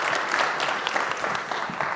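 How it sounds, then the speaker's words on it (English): Audience applause fills a conference hall after a FinOps X 2024 breakout talk, steady dense clapping close and loud throughout with no voices. "Round of applause."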